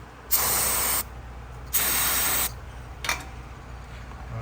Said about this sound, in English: just spray some down there by the bottom of the injectors